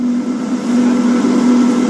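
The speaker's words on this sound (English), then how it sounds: "Thousands of fish being turned into dust to create fish meal." Heavy fish meal processing plant machinery drones continuously with a steady low hum and gritty rumble, close and loud, no voices.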